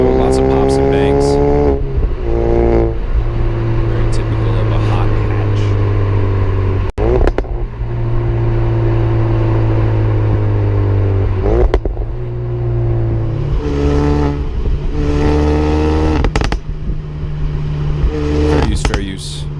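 A Ford Focus RS engine revving loudly with sharp exhaust pops and bangs between throttle blips, repeated crackles over the roar, with a voice talking over it at times.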